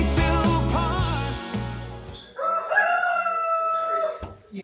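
Chickens and a rooster on a rural property in France, with a steady low rumble and layered voices early on, then clear crowing-like calls and clucking rising over the din before fading.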